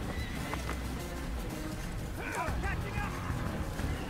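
Horse in Assassin's Creed whinnying sharply midway over steady hoof clip-clop and game ambience, with someone talking throughout.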